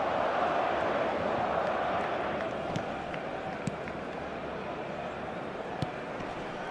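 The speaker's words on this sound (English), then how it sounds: "the crowd level has gone up a notch or 10." Stadium crowd in the eFootball video game, a steady dense roar of cheering after a goal, loud and continuous, with a few faint thuds.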